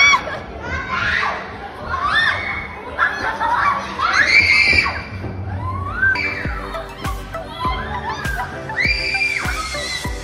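Children scream, shriek and shout while playing a game, a lively cluster of high excited voices with laughter and chatter throughout, loud and close.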